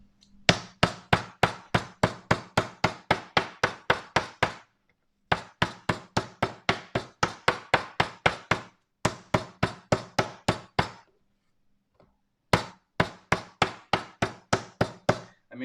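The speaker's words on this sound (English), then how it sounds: "I've cut it into steaks, and now I'm going to hammer it" Rapid, sharp thuds from a meat mallet pound steaks in bursts of about a dozen blows each, separated by short pauses, close and crisp.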